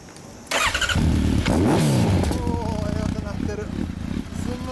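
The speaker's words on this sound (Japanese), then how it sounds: "エンジン音聞かせてもらえますか" A 2015 Honda CB1300 Super Bol d'Or fitted with a Wyburn exhaust starts and revs loudly close by, its engine note rising and falling through several throttle blips before settling into a rumbling idle, with people talking faintly.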